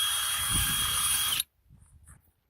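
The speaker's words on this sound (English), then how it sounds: "just go right there, drill it through" A power drill whirs steadily at high speed through polystyrene foam for over a second, then cuts off abruptly, followed by faint low rumbling.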